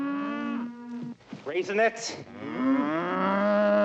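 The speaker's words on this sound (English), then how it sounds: "there's gotta be some sort of meaning or significance to all the cows popping up" Cows mooing in the film Blazing Saddles, several loud drawn-out moos close together, with a brief spoken word in between.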